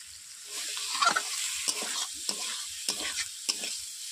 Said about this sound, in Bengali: বন্ধুরা দেখতেই পাচ্ছেন সবজিগুলো কষিয়ে নিয়েছি, কষানো হয়ে গেছে।